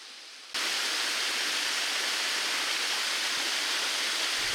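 A small mountain waterfall in a gorge, its rushing hiss bursting in abruptly after a quiet moment and then pouring on as a dense, even roar, loud and near, with no voices.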